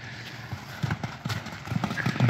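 Two mustang horses move around during playtime and liberty work, their hooves clip-clopping in an uneven rhythm close by, with a faint whinny and soft talk in the background.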